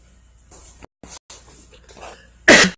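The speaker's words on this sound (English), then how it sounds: "So I have a bit of a cough today." A single person coughing up close, with a couple of short throat sounds and then one sharp, loud cough near the end, heard alone with no talking.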